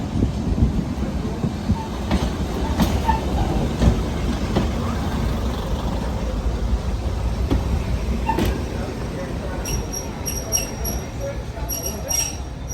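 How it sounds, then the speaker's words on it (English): Train hauled by locomotive 56182 with DMU 51188 pulling out of Weybourne station, a steady rumbling roll with rail clicks and faint wheel squeals, fairly close and continuous, under occasional talking. "as that train leaves the station"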